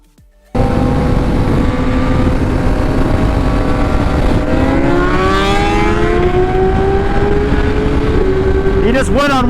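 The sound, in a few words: ZX10R and S1000RR motorcycles on a high-speed roll race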